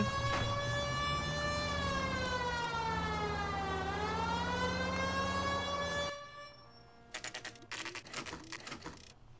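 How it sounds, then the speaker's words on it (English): In the video game L.A. Noire, a police car siren wails loudly and steadily, rising and falling for about six seconds before cutting off, followed by clattering noises. "Siren is on!"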